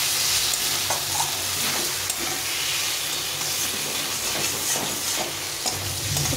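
Spice masala and fried potatoes for a crab curry are stir-fried in a pan, giving a steady loud sizzle and hiss with scraping stirs throughout, no talking.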